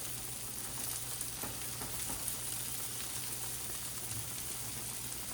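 Vegetables sautéing in a hot pan give a steady, close sizzle and crackle that runs unbroken throughout, with a faint low hum beneath and no talking.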